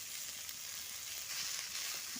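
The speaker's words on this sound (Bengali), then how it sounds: "আর ফুলও যেমন লাগে ভাজবে তেমন মানে এই পাতাটাও ভাজবে" Leaves of a flowering plant frying in a pan give a steady, soft hiss with fine crackles throughout, faint and unbroken, with no voices.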